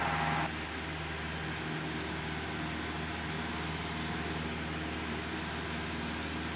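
A light airplane's engine drones steadily at full power on the takeoff roll. The sound is a continuous broadband roar, moderately loud, with faint periodic ticks and no talking.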